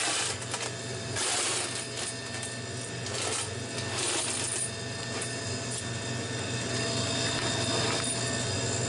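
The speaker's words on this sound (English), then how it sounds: "grab some quarters. We'll run a few through." Quarters fed into a Dixie Narco 240/138-6 soft drink vending machine rattle through its coin mechanism, a run of close metallic clicks and clatters over a steady machine hum, no talking.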